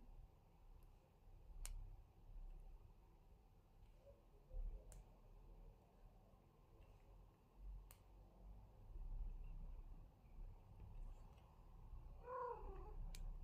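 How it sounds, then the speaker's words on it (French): A cat purring softly at close range, a faint continuous low rumble with a few sharp ticks, ending in a brief higher cooing trill. "Pourquoi tu roucoules, mon chat?"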